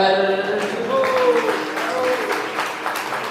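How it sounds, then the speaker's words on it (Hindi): An audience claps together at a Jain religious discourse on Lord Mahavira, a dense, even burst of applause filling the whole moment, with a voice or tones faintly underneath. "ताली बजाने से कुछ नहीं होगा"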